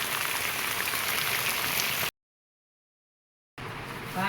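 Steady rain pours on a farmhouse, a dense even hiss that fills the clip, then cuts to total silence for over a second before the downpour resumes just as loud.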